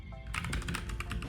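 Quick, close keystrokes on a computer keyboard as code is typed, a brisk run of about a dozen clicks starting after a short quiet moment.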